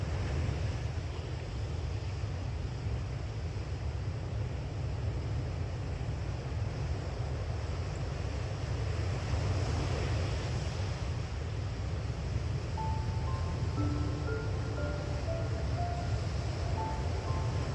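Ocean waves wash onto a beach in a steady, soft surf wash, with faint wind noise and a few light tonal chimes late on.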